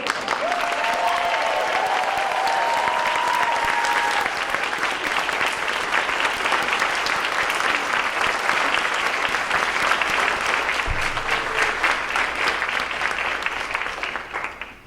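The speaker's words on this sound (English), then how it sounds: "One really big thunderous applause" A school board meeting audience gives sustained, thunderous applause, loud and dense throughout, with a few faint voices in the room before it tapers off at the very end.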